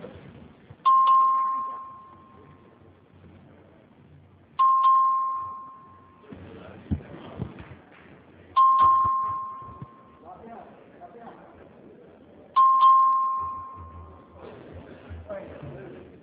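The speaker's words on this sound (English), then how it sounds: "Clerk will ring the bell." A voting bell in the Texas House chamber, rung by the clerk for a record vote, sounds four times at steady intervals, each ring a clear tone that fades out, with faint chamber noise between the rings.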